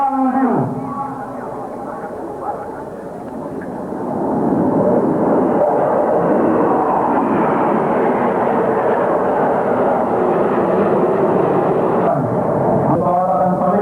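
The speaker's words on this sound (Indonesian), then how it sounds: "Pesawat akan saling menyerang pada kecepatan yang sangat tinggi dan pada ketinggian yang sama pula." Military jets fly at high speed during a 1996 Indonesian Air Force anniversary air show, their engine roar swelling from a distant rumble into a loud, sustained jet noise.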